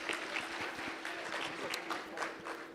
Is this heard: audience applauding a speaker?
yes